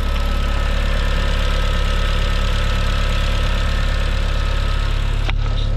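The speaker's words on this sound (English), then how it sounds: "I've got it idling so we can prove that she's running well." A 2000 Audi TT 1.8T turbocharged engine idles steadily up close, a loud continuous mechanical drone with an even throb and no revving, ending with a brief click.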